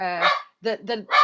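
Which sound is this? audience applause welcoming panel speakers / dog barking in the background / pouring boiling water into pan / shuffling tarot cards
dog barking in the background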